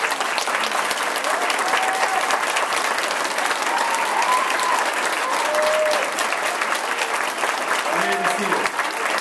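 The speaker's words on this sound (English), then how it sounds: "Let's give these folks a quick round of applause" Audience applause for standing staff and faculty at a university graduation ceremony, loud dense clapping from a large crowd that holds steady for the full stretch, with faint voices and a few shouts mixed in.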